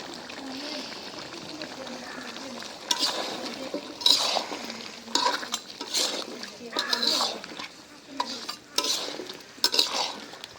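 Goat meat stir-fried in a pot as its liquid cooks down, a spoon scraping and clanking against the metal in irregular bursts over a low sizzle, with some talking.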